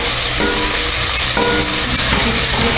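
Chopped onion sweats in a hot pan, producing a loud, continuous sizzle with steady hiss and occasional faint stirring scrapes, with no talking.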